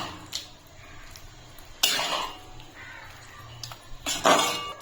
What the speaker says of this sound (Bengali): পাস্তাগুলোও দিয়ে দিচ্ছি, দিয়ে ভালো করে মিশিয়ে নেব